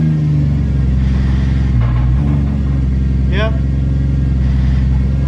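A Toyota Supra Mk4 with a twin plate clutch and T56 Magnum six-speed drives with a steady low engine rumble and clutch rattle throughout, someone briefly speaking over it.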